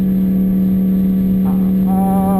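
A Yamaha R1 sport bike engine runs steadily after sitting unused for a couple of months and running below full health, a loud constant drone with a strong low hum and a brief rise in pitch near the end.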